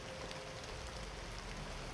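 Heavy rain pours down steadily, a dense continuous hiss of water with no pauses over the whole stretch.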